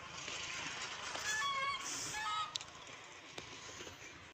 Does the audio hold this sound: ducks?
yes